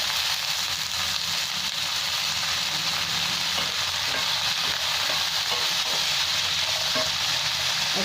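Peas and potatoes frying with chopped onion in a pan for sago poha, giving a steady, dense sizzle throughout with faint scraping, no voices.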